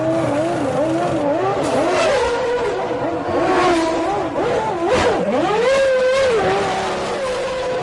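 A Williams Formula 1 car from the 1993 season pulls out of the pit lane, its loud high-pitched engine rising and falling through gear changes and revving, with more engine noise from other racing cars close by.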